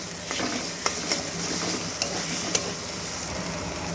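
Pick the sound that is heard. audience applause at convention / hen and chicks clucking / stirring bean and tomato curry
stirring bean and tomato curry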